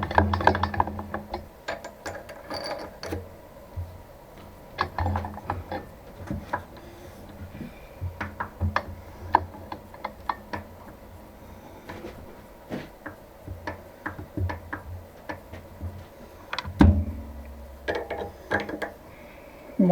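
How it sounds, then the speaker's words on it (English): A thread being hand tapped in a part for a mini lathe compound upgrade: irregular metallic ticks and clicks with short ratcheting bursts, fairly close, and a heavier clunk near the end. "I'm gonna hand tap it"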